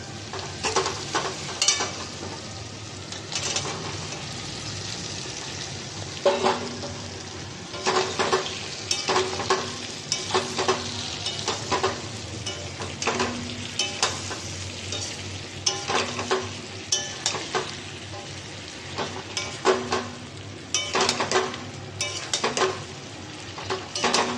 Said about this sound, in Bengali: মশলাটা হয়ে গেছে, তো এবার এখানে আমি ভেজে রাখা জিনিসগুলো দেবো।